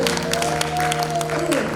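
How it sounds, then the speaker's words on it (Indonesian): A congregation at a senior community church service claps, a brief burst of busy, loud applause over sustained organ-like musical tones. "Kita memberikan tepuk tangan yang luar biasa"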